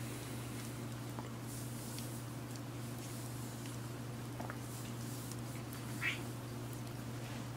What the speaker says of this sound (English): You do be meowing it up